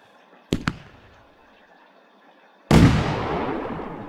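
Consumer firework cake set off outdoors at night: two sharp pops, a pause, then a loud, close burst of crackling blasts that rings and decays into a continuing rumble.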